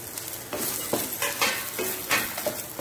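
Dried chillies, coriander seeds and cumin frying in a little oil in a pan, a crackling sizzle broken by repeated stirring scrapes, close and continuous with no talk.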